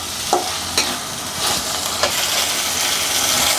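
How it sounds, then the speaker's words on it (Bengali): Cubed tomatoes fry with spice paste in a pan, a steady close sizzle broken by a few scraping stirs of a spoon. "এখন আমি টমেটোগুলোকে কিছুক্ষণ কষিয়ে নিব।"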